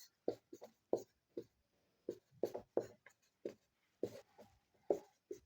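Chalk or marker strokes on a board during a Class 10 maths lesson on circles, a series of short, distinct scratchy taps and scrapes in uneven bursts, fairly close and clear, with no talk.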